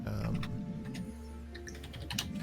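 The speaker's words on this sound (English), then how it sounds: "So weird hearing keyboards and stuff because we're using the other audio system, but it has like no filter." Computer keyboard typing picked up through an unfiltered microphone during an online tabletop game session, giving soft scattered clicks and taps with a low background hum throughout.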